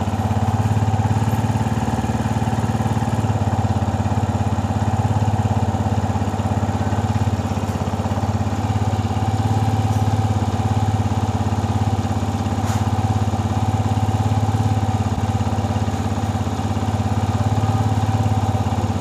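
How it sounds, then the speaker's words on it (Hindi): A motorcycle engine held at a steady raised speed of around 3000 RPM, a constant close drone with no talk. "यहाँ पे ये स्टॉप वॉच को मैं साइड पे रख के इसकी RPM को बढ़ा दूँगा दोस्तों, ताकि ये 3000 RPM पे हो जाए"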